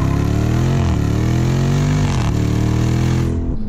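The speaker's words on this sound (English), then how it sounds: "If you mash it, the exhaust is going to bark at you, and you're going to hear it," The supercharged engine of a 2020 Jeep Grand Cherokee Trackhawk SUV revs hard and steadily, its exhaust barking deep and throaty, with the pitch dipping and climbing twice before cutting off.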